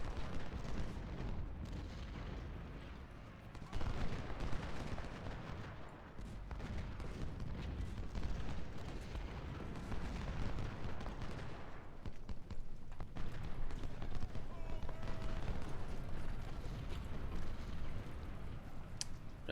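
Rumbling artillery and musket volleys in a Civil War strategy game battle at Malvern Hill, a dense continuous roar of booms and crackling gunfire layered over one another, loud and sustained throughout.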